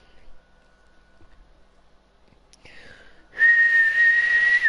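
People whistling, with a sharp, loud, sustained high whistle starting partway through after a quiet stretch with a faint earlier tone.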